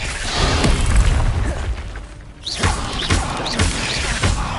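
A Levioso levitation spell goes off in Hogwarts Legacy. A dense, rumbling burst fades, and several short, popping, whooshing hits follow at a steady rhythm, close and fairly loud.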